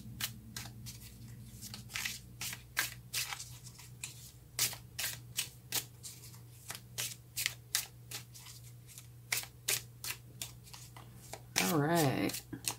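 Tarot cards are shuffled by hand in rapid, rhythmic riffling bursts, close and crisp, with a steady low hum beneath and a brief voice near the end.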